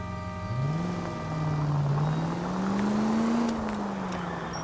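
A car engine in the video game L.A. Noire hums steadily, its pitch rising and falling gently as it drives along, with no voices.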